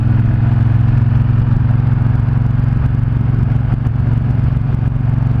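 A motorcycle ridden at a steady pace, its engine a loud, constant low drone with a faint mechanical rattle throughout and no talking.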